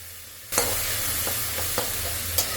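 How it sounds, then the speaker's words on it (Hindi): Cumin seeds and black pepper frying in hot oil in a pan for an Indian vegetable dish, a steady close sizzle beginning abruptly, with a few light scrapes of stirring. "तो इसको भूनने के लिए छोड़ देते हैं, अभी इतनी देर भुनेगा।"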